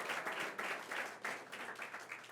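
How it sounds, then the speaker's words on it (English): Applause from an audience at a New York State gathering in Puerto Rico, hands clapping in a steady, moderately distant wash with rhythmic swells, for Speaker Carl Heastie. "Speaker Carl Hastie, let's give him a round of applause"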